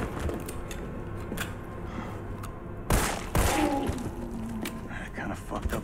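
Gunshots from the survival horror game Resident Evil 3, aimed at police officers, two loud close shots standing out over a noisy game soundscape while people talk.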